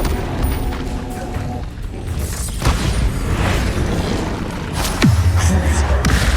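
Bombarda blasting spell cast in Hogwarts Legacy, heard as a loud booming explosion near the end with a sharp burst and low rumble, following busy game effects and clatter.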